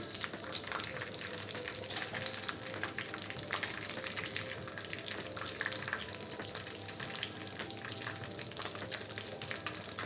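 Three bay leaves frying in hot oil left over from fried chicken, over a full gas flame: a faint, steady crackling sizzle with scattered pops running throughout, no talking.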